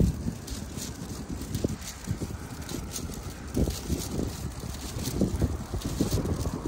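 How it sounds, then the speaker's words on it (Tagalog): Cold wind blows outdoors on a winter day in Korea, a steady rushing hiss buffeting the microphone with low gusty rumbles, fairly loud and constant. "Ang malamig tapos humahangin."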